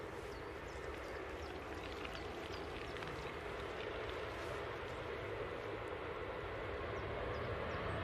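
A Ryanair Boeing 737-800 taxiing at Manchester Airport produces a steady distant jet engine rumble and whine, faint and continuous across the whole stretch with no speech.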